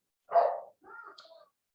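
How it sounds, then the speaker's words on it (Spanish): A dog passing by outside gives a single short bark, followed by softer whimpering yips, fairly close and clear against otherwise quiet surroundings. "Tenemos un perro que está pasando por afuera"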